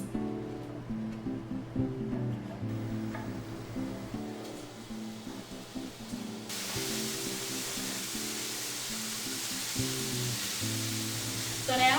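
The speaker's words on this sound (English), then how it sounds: "We're going to add it to the frying pan over medium heat for about 5 minutes." Andouille sausage slices sizzle and spit in a frying pan over medium heat, a close, continuous crackling hiss that grows brighter and louder partway through, over a low hum.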